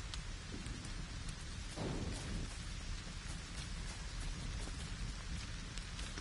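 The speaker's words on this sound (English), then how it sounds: "It's a thunderstorm." A video game thunderstorm: dense, steady rain hisses throughout, with a low rumble of thunder swelling briefly near the middle, no voices.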